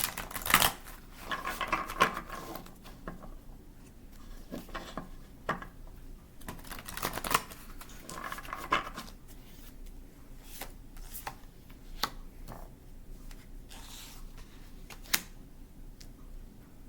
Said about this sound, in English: Let's shuffle the oracle and see what the oracle has to say for us